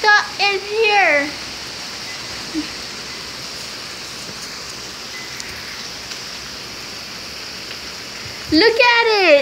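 Steady rain pours down during Hurricane Matthew, a dense, even hiss that runs almost the whole stretch, with a person talking briefly at the start and again at the end.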